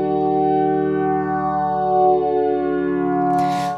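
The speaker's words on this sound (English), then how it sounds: "mapping that LFO to pitch gives it a bit of detuning" A sustained synth chord in Ableton with an LFO mapped to pitch for a subtle cassette-tape detuning wobble, its steady harmonic tones drifting slightly, ending in a brief burst of noise.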